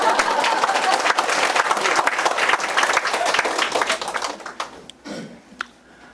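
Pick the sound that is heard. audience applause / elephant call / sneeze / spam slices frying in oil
audience applause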